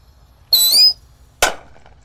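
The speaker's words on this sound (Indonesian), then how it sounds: "Lanjut yang kita nyalakan di sini ada roket Minitor di dalam toples" A Minitor firework rocket lit inside a jar for New Year gives a brief whistling shriek, followed a moment later by a single sharp bang that fades quickly into quiet.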